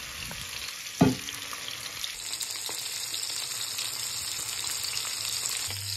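Puti fish roe dropped into hot oil in a pan, with a sharp clatter as it hits, then a steady bright sizzle and crackle of frying that carries on throughout, close up and with no voices.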